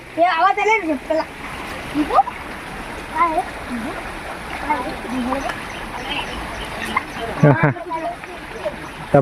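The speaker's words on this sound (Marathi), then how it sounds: "इथं धबधबा आहे छोटा" A small waterfall in a forest stream splashes and rushes steadily, close and continuous throughout, with people talking over the water noise.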